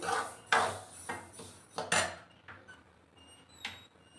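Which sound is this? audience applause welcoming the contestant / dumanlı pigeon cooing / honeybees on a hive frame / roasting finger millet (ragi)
roasting finger millet (ragi)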